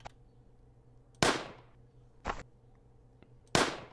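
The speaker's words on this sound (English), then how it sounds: "There is no animation on the pistol shooting." Three sharp pistol shots from a video game, each a loud crack with a quick decay, coming at uneven intervals over a quiet low hum.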